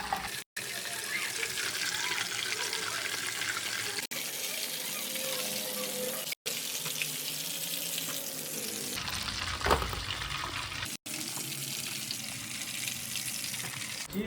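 Chicken cheese balls fry in hot oil with a dense, continuous bubbling sizzle, near and loud, broken by a few brief gaps and a short quieter stretch partway through.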